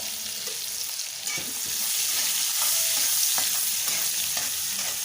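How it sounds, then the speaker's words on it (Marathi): Curry leaves and onion sauté in a pan with asafoetida, giving a constant close sizzle with light scrapes and taps of a spoon stirring throughout. "कढीपत्ता आणि कांदा परतून घ्यायचा"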